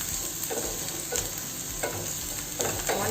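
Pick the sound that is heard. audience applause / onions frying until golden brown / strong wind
onions frying until golden brown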